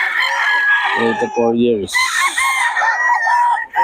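Several prized roosters crow loudly and close by at a gamefowl gathering, long overlapping calls rising and falling across the whole stretch, with clucking mixed in and a voice speaking briefly underneath.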